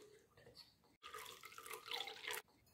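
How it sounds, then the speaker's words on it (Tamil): Water pours into a brass uruli bowl for a household entrance display, a steady splashing stream lasting about a second and a half after a quieter opening, close and alone. "இப்போ இந்த உருளையில தண்ணி ஊத்திக்கலாம்"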